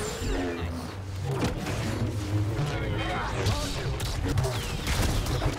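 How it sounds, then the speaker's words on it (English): Rapid blaster gunfire in a Star Wars Battlefront 2 match, dense overlapping shots and impacts sustained throughout, with players talking over the action. "Open fire upon him."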